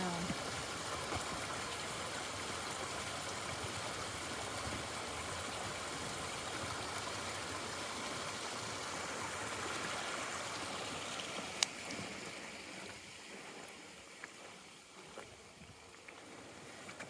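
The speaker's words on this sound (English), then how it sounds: "There's another main stream coming down." A mountain stream in the Lake District flows with a steady, broad rush of water, constant and moderately close through the whole stretch, easing slightly toward the end.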